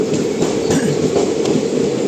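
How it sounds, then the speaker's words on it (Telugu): A train moves at Anaparthi railway station, a loud steady rumble with rhythmic wheel clatter close by. "ఇది అనపర్తి రైల్వే స్టేషన్."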